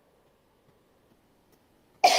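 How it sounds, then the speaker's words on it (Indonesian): A single sharp cough bursts out at the end after near silence, loud and close. "Maaf, batuk, sakit."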